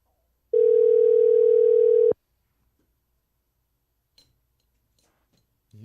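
A single steady electronic ringing tone sounds on a phone line for over a second, then stops, leaving near silence with a few faint clicks.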